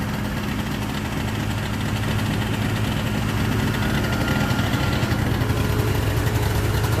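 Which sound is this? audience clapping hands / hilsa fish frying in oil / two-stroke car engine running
two-stroke car engine running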